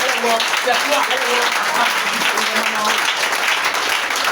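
A congregation at a church service applauds continuously, a dense wash of clapping from many hands at close range, with voices speaking over it.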